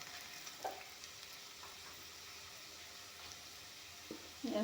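Tomato paste frying in a pan, a soft steady sizzle running the whole time with a few light clinks of a spoon stirring, close and fairly quiet.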